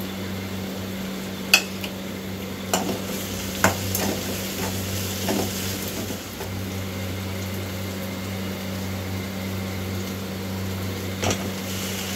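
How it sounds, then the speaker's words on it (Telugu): Chopped green chillies and onion fry with salt in a pan, giving a low, steady sizzle with occasional light scraping taps from stirring and a constant background hum. "మనం ముందుగా కట్ చేసుకున్న పచ్చిమిరపకాయ ఇంకా ఉల్లిపాయ కూడా వేసుకొని ఫ్రై చేసుకోవాలి"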